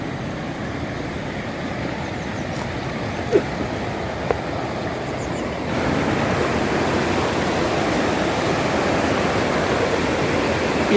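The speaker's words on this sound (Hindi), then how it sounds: "ये वरुणा नदी जी आ रही हैं और ये आकर के यहाँ पे भागीरथी जी में मिल रही हैं।" Steady broadband rush of the Varuna river flowing over large rocks where it joins the Bhagirathi, a continuous near water roar that grows louder and fuller partway through, with a couple of faint knocks.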